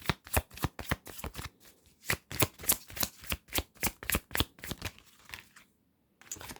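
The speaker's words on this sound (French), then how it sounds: "quand je brasse les cartes" A deck of tarot cards is shuffled close up in a rapid series of crisp riffling bursts, about a dozen sharp flutters in quick rhythm before a brief pause, quiet and alone with no talk.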